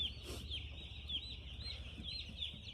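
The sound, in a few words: broiler chickens clucking in shed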